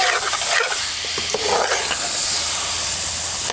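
Grated carrot halwa roasts in a pan near the end of cooking. A loud, steady hiss and sizzle fills the whole stretch, broken by a few stirring scrapes early on.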